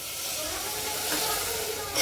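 Half a glass of water hits hot fried spices in a pan for a Maharashtrian potato bhaji, raising a steady, broad hissing sizzle that holds for about two seconds and swells slightly at the end.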